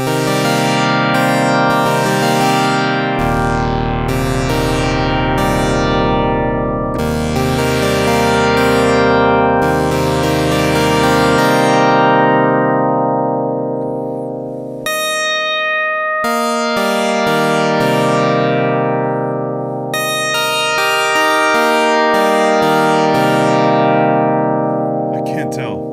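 A synthesizer sounds sustained polyphonic chords that shift through several changes, with steady bright tones, a held low note under some passages and brief gaps between phrases.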